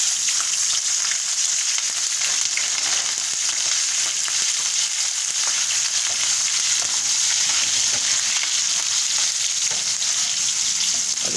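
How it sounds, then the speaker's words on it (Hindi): Green chilies fry in hot oil in a pan, making a loud, continuous sizzle that holds evenly for several seconds with faint spattering and no voices. "ग्रीन चिली, जो कि हम फ्राई करेंगे इसमें"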